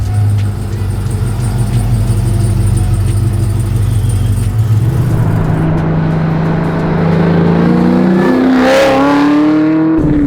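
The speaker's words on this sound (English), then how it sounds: "Here we are cruising in the 69 Camaro my friend Darren owns" An LT4-powered 1969 Camaro restomod rumbles at a steady low cruise, then its engine revs up loudly in rising sweeps during the drive, heard from inside the car.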